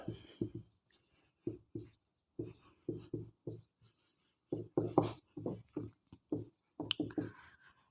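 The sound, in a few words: writing a maths statement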